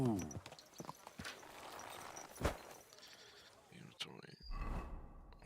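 Horse hooves clip-clop in Kingdom Come: Deliverance 2 during a hardcore run, several soft steps scattered through the clip, mixed with other game sounds and faint movement noises.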